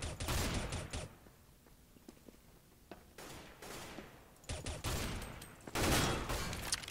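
Shotgun blasts in Counter-Strike: Global Offensive: several loud, booming bursts fire at irregular intervals, each trailing off quickly, with no one speaking.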